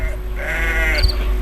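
Sheep in a flock bleat over a steady outdoor background hum, with a wavering bleat in the middle and a higher cry near the end, fairly close and continuous.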